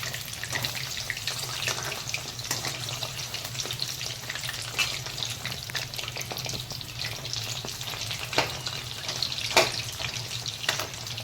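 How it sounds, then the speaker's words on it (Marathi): Chicken lollipops shallow frying in a pan, a continuous close sizzle and crackle with scattered sharper pops and occasional stirring clatter, no talk. "आता हे मी दोन्ही बाजूनी शालो फ्राय होऊन देणार आहेत"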